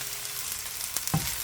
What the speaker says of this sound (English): I'm going to go ahead and add the rice in.